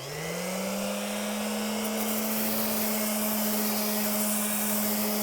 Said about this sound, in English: A belt sander would be preferable, but I have a random orbital